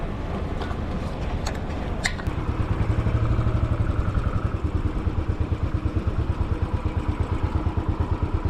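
Four motorcycles idle together at a meeting point before a desert trip, a steady low engine throb that grows slightly louder and pulses evenly, with a few faint clinks early on.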